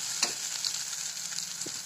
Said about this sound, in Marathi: आता हे चांगलं भाजून घेते आणि ह्याच्यामध्ये बेसन टाकून घेते चांगलं भाजल्यानंतर